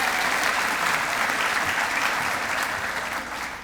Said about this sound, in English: a round of applause for our dual credit staff and our ambassadors